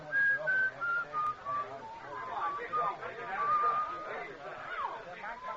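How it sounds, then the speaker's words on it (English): A person whistles the tune Yankee Doodle aboard a railway car, a thin wavering melody of short separate notes, faint and partly buried under a steady rumble of train noise and background murmur. "I've been hearing that whistling right along and didn't notice it"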